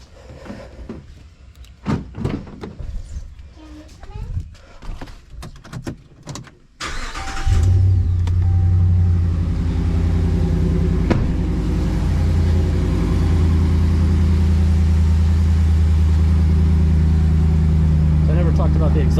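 After several seconds of shuffling and talking, a RAM Rebel pickup truck engine with an aftermarket exhaust cranks and catches, then settles into a loud, steady rumbling idle.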